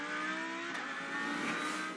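Onboard a race car at the WEC 6 Hours of Fuji, a steady loud engine roar and whine carries on without a break, with a shift in pitch partway through as the car goes into braking.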